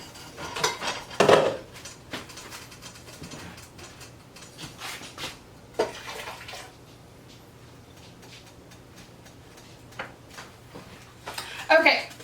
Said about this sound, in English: Now we're going to put it back in the pot.